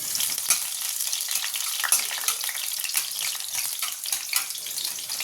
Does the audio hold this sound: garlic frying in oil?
yes